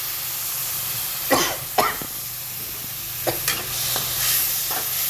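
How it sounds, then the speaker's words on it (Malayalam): Boiled white chickpeas are stirred in a pan, a few scraping strokes and soft thuds of the spoon over a low steady hiss, close up with no voices. "നന്നായി ഇളക്കി മിക്സ് ചെയ്തിട്ട് വെള്ളമൊക്കെ ഒന്ന് പറ്റട്ടെ കേട്ടോ."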